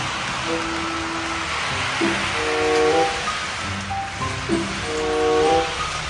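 A model train with a BB301 locomotive hums and rattles along its track, with steady whirring punctuated by brief tonal whistles and clicks, fairly close and continuous.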